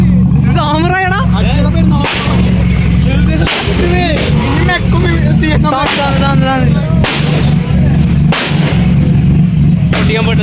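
A modified car's exhaust fires off a series of loud, sharp pops like gunshots at a college auto show. The cracks come every second or so over a running engine, and people speak in between.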